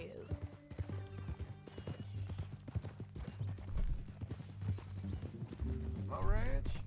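A horse in Red Dead Redemption 2 clip-clops steadily at close range, a rhythmic run of hoofbeats, then gives a rising whinny near the end. No speech is heard.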